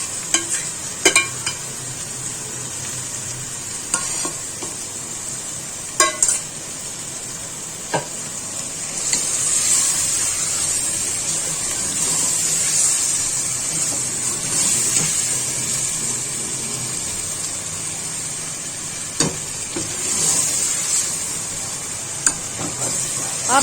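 Marinated chicken for chicken matar ka salan sizzles steadily in a hot pan while being stirred, with a continuous frying hiss and scattered scraping clicks from the spoon, close and fairly loud with no talk.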